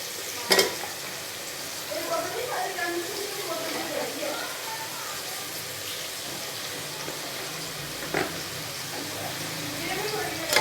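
Chicken pieces frying in a pan with browned onions for karahi gosht, a steady moderate sizzle with occasional stirring scrapes and sharp utensil knocks, while a voice talks intermittently over the cooking.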